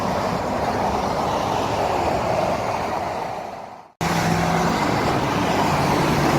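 Steady, loud roar of passing traffic beside a turnpike ramp and overpass, with a brief cutout midway before the dense road noise resumes.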